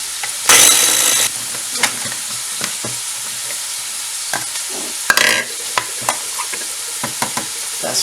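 Onions fry in a home-kitchen pan for a lamb curry, a soft steady sizzle under sharp scraping stirs and clinks of a utensil, with one louder hiss burst early and another near the end.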